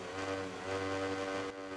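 Motorcycle engine in the MotoGP19 video game on the Nintendo Switch, held at revs on the start line before a race at Laguna Seca: a steady, quiet buzzing drone that swells slightly and then drops off.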